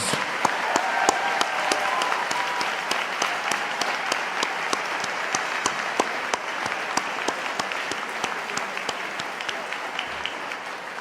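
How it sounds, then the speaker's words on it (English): Sustained audience applause at a university graduation ceremony, a dense steady wash of many hands clapping in a large hall that holds evenly for the full length without talk. "Can I please ask for a round of applause"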